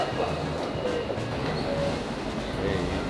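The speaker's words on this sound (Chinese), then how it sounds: "火车来了，火车来了" An MRT train pulls into a Kuala Lumpur station, a steady broadband rumble of rolling rail noise with faint squeals, close by and continuous with some voices in the background.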